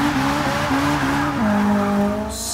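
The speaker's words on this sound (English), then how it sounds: "Now you can definitely hear them turbos" The turbocharged engine of a Ferrari 488 GTB in Forza Motorsport 6 drones steadily and shifts pitch as it pulls through gears, with a faint tire squeal and a bright hiss rising at the end.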